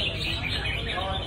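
Red-whiskered bulbul singing at a bird song contest, bright chirping phrases over crowd murmur and background talk.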